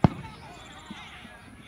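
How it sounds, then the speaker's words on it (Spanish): A sharp firework or firecracker bang from a football match celebration, one loud close crack followed by a fainter distant pop about a second later. "Escuchamos los cohetes que se están dando pues"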